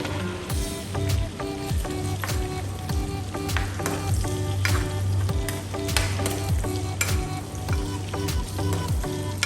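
Meat for pancit miki sizzles and fries in a pan while being stirred, with a continuous loud sizzle and regular scraping strokes of the utensil, and no voices.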